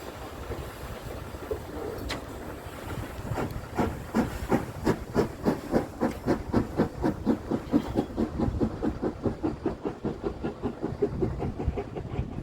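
The steam locomotive Twizel works past a signal box at the Tanfield Railway during a steam gala, heading north. Rhythmic exhaust chuffs build and quicken over steady hissing steam, with birdsong in the background and no talking.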